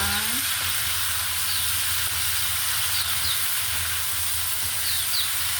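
Tomatoes sizzling in a hot frying pan for ginisang kamatis, a steady close, loud frying hiss and crackle running throughout without pause.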